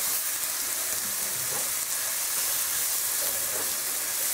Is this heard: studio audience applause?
no